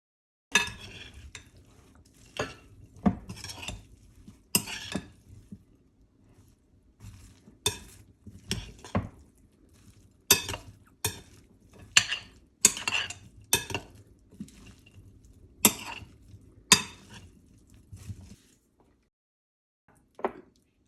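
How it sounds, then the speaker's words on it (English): Avocado salad ingredients stirred in a bowl give close, irregular scrapes and soft clinks of a utensil that repeat in bursts over about twenty seconds, with short quiet gaps and no talking. "With the ingredients in a bowl, We are going to mix it up."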